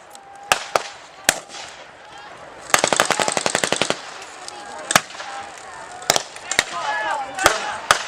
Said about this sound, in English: US soldier there using a light machine gun. It's a late version of what we popularly think of as the Tommy gun